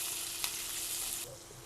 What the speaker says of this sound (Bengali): পেঁয়াজটা 1 মিনিট একটু ভেজে নেবেন